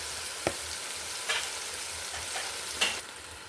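Cumin, salt and peas frying in a pan in a home kitchen, a steady soft sizzle with a few sharp clicks of stirring, alone without talk.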